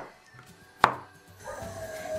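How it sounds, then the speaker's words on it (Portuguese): A knife makes one sharp, close chop through kabocha squash on a cutting board, cutting it into cubes in a quiet kitchen, with faint soft handling noises afterward. "Corte em cubos."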